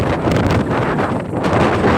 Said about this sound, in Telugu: గాలికి అసలు ఏం వినబడతలేదు ఫుల్గా వస్తుంది గాలి ఘోరంగా వస్తుంది